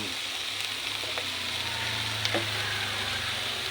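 Sweet potato shoots sizzle steadily in a hot pan of oil used to fry smoked fish, with a constant close frying hiss and a few faint stirring clicks.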